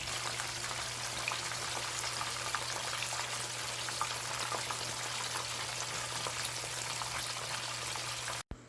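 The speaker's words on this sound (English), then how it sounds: "as soon as you put it into the frying oil, do not touch it" Battered chicken wings frying in hot oil give a steady, soft crackling sizzle with scattered pops, continuous until a brief cut near the end, with no talk.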